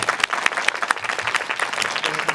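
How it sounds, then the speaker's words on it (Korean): An audience applauds at the close of a talk with a comic-book author, a thick burst of clapping from the crowd with scattered louder claps, sustained throughout. "우리 작가님께도 뜨거운 박수 한번 부탁드리겠습니다"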